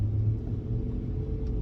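A car rumbles past at close range in street traffic, a steady low engine drone holding through the short stretch with no voices.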